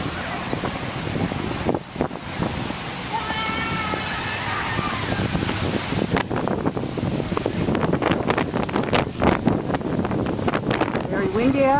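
Strong wind buffets the microphone in loud, gusty roars, with a brief lull and a voice speaking faintly beneath the rushing air.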